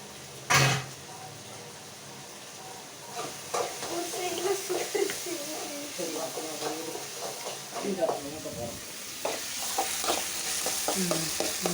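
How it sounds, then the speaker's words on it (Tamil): Chopped tomato and onion sauté in sesame oil, a steady sizzle broken by frequent scraping and clattering stirs of a spoon against the pan, with a sharp knock near the start. "பாருங்கள், தக்காளி, வெங்காயம் எல்லாம் வதங்கிடுச்சு"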